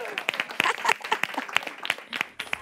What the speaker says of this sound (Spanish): Fuerte el aplauso para mí.